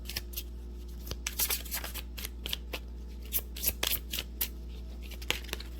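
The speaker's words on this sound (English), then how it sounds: "Let's try shuffling one more time." Tarot cards being shuffled by hand, quick papery riffles and flicks in irregular bursts, close and crisp against a low steady hum.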